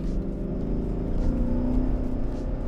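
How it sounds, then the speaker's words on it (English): A BMW E39 540i wagon's naturally aspirated V8 engine revs with a steady, throaty low rumble and whir, close and continuous, with no talking. "the naturally aspirated V8"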